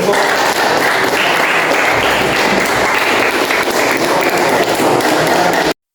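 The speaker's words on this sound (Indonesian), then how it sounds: "Kita berikan aplaus dulu." A classroom audience claps after a group presentation, a dense burst of applause that stays steady and loud for several seconds and then cuts off abruptly.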